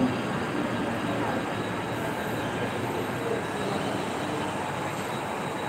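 A train rolls through a busy Mumbai station in a steady, loud rumble of wheels and rail noise that fills the whole stretch, with faint wheel squeal riding on top and no pause.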